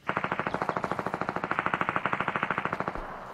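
Automatic gunfire in the game Fortnite, a rapid steady burst of about thirty evenly spaced shots lasting around three seconds, moderately loud with no talking.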